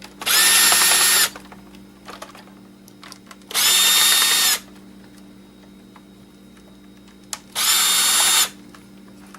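A small electric screwdriver removes screws from a laptop motherboard, with three separate whirring bursts of about a second each, spaced a few seconds apart, over a quiet background hum.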